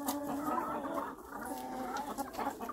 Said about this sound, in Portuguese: Olha os frangos da minha irmã,